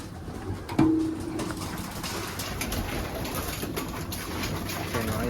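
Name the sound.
young racing pigeons cooing in loft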